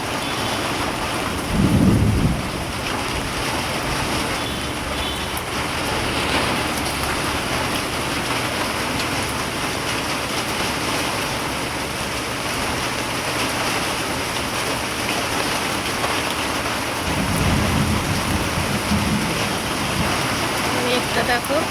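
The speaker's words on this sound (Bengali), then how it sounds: "মেঘ ডাকছে, শুনতে পাচ্ছ? গর্জন শুনতে পাচ্ছ?" Heavy thunderstorm rain pours steadily onto surfaces. Two deeper low rumbles swell near the start and again near the end above the constant hiss.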